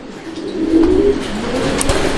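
Danish pigeons at a market stall coo once in a drawn-out, low, fairly close call, with a faint chirp later over a constant background hum.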